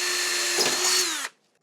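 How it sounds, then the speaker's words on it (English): A power drill whines steadily as it bores a pre-drilled clearance hole through a metal ceiling rail for a drop ceiling, the motor pitch sagging just before it cuts off into silence. "pre-drill a clearance hole"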